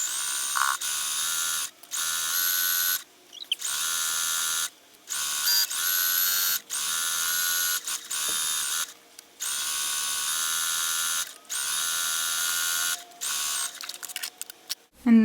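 A sewing machine stitches a dress hem with a double needle, running in loud, even bursts of rapid buzzing, each a second or two long, separated by short pauses as the fabric is guided.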